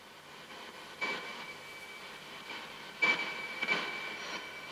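Faint, hissy static from a ghost box device run through two filters, with a few brief swells and bursts of rushing noise, steady and low without any voices.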